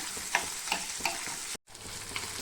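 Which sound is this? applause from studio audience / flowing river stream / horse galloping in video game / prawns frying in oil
prawns frying in oil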